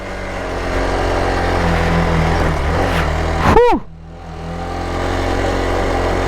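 A Hero Xpulse 200 motorcycle ridden off-road, its single-cylinder engine droning steadily nearby, with a brief sharp whoosh and a dip partway through before the engine hum resumes.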